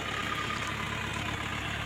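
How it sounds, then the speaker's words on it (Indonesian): A car engine idles while its radiator is flushed of coolant mixed with engine oil, giving a steady, even mechanical rumble heard close up with no voices. "Jadi sambil mesin dihidupkan teman-teman ya."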